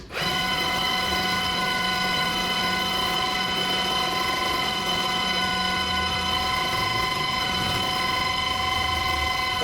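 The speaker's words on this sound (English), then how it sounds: "Then turn on our pump to clean the inside of our pump." An SPR390 airless paint sprayer pump runs to flush its own interior, a loud, steady mechanical whine with a rapid ratcheting clatter that starts abruptly and holds constant, with no voices.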